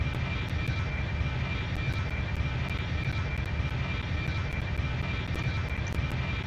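Steady, loud roar of Airbus A321 jet engines in the Extreme Landings flight sim during a throttled-down approach, a constant drone with a thin whine and faint clicks, no voices.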